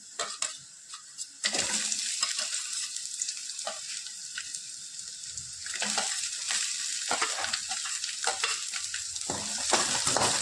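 Onions and shallots sizzling as they sauté in a pan for egg thoran, a soft steady frying hiss with occasional stirring scrapes and clinks, close and continuous after a brief quiet opening.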